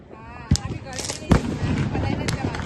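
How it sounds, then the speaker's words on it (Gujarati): Small pop-up firecrackers bursting during a Diwali celebration, several sharp snapping cracks at irregular intervals over a busy outdoor backdrop with people talking. "પોપઅપ બાકી રહી ગયા હતા થોડા તો એ ફોડી રહીએ"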